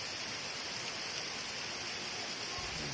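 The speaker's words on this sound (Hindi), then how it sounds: "अच्छा लग रहा है बारिश हो रही है।" Steady rain falls in a dense, even hiss, unbroken throughout, with no voices over it.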